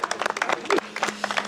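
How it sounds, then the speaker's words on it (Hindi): A small crowd claps for a man from Bihar, scattered overlapping hand claps close by, uneven and fairly quiet, with a voice speaking over part of it. "ताली बजा रहे भाई को।"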